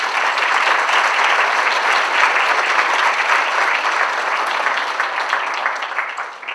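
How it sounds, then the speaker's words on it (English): Audience at a university honors award ceremony bursts into loud, sustained applause, a dense wash of clapping that holds steady and begins to fade near the end. "Let's give one more round of applause for these exemplars."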